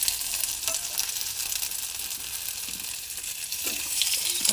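Potato for egg chops fries in a pan with a dense, continuous sizzle and occasional stirring scrapes. The sound stays close and even throughout, with no talking.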